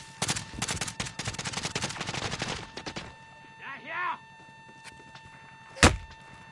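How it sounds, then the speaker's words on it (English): Rapid automatic gunfire in Call of Duty Warzone (Modern Warfare) fills the first three seconds with dense, loud bursts, then a pause with a short voice-like sound and one more sharp, close shot near the end. "Oh, we're getting shot at, guys."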